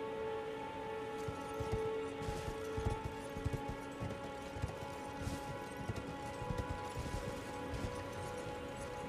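Video game horse hooves clip-clop in a steady walking rhythm under a constant tonal music or ambient bed, moderately loud and repeating throughout.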